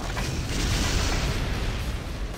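A grenade explodes in the shooter game Quake 2, a loud, dense burst of noise that rolls on with a rumbling, crackling tail through the whole moment, with no talk over it.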